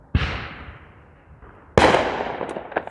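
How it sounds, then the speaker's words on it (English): Two loud, sharp firework blasts go off a few feet away on a night street in Middletown, New York, each followed by a crackling, decaying tail, with small pops trailing after the second bang. "Someone just shot off some fireworks a couple feet away."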